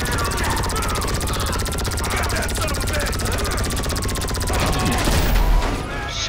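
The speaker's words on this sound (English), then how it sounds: "Nice helicopter, bro." Video game helicopter with steady rotor chop and engine drone in a constant loud wash, mixed with bursts of in-game gunfire and a louder swell near the end.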